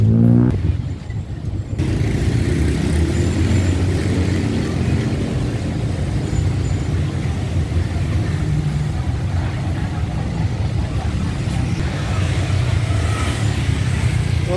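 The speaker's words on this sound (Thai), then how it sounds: "รถจะค่อนข้างติดเยอะอยู่เลยนะครับ" Dense, steady road traffic in Pratunam, Bangkok, at dusk: a continuous wash of engines and tire rumble, loud and close throughout, with no distinct voices.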